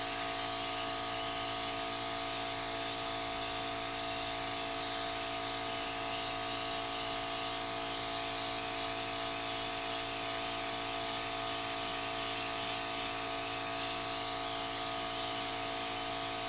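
A steady, continuous hiss of an airbrush spraying paint on a doll runs unbroken throughout, with a faint constant mechanical hum beneath it.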